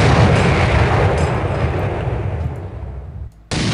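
Sniper rifle shot in the Minecraft MineZ game mode, a loud booming blast that rolls off and decays over about three seconds before a sharp cut to more rumbling noise.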